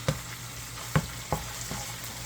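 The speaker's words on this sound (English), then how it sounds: "After we get finished cooking this hamburger, we are going to drain out that grease" Hamburger meat fries in a pan with a soft steady sizzle, broken by a few sharp scrapes and stirs at uneven intervals.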